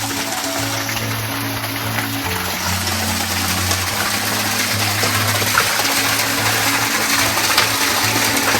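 Water from a cow-mouth gaumukh spring spout at a temple site in Tala taluka runs unbroken, a loud, steady rushing stream heard up close with a low hum beneath it and no talk.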